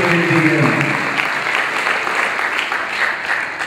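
Sustained applause from a church congregation at an evening service, many hands clapping together in a dense roar that holds steady throughout, with a low murmur of voices near the start.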